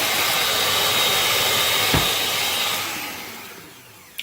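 An electric hand mixer spins steadily with a loud, continuous whirring hiss that eases off toward the end, heard close with no talking.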